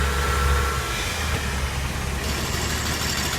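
The 4.2 turbodiesel engine of a boat idles after repair of its high-pressure fuel pump, a loud, close, steady drone with a deep low rumble and no voices.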